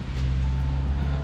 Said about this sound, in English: Sorry about the car noise behind me.